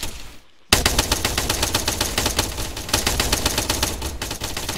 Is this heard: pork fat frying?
no